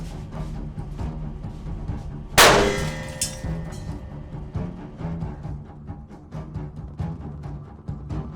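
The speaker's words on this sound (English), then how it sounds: "here is what happens if I perform this reaction in a watch glass, but using methyl acrylate instead of acetone." Dichlorine hexoxide reacting with methyl acrylate in a watch glass gives one sharp, loud bang with a metallic ring, followed by faint rattling and background noise.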